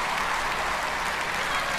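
Audience applause for a singer, a dense, steady wash of clapping that holds at an even level for the whole stretch, with voices mixed faintly into the crowd.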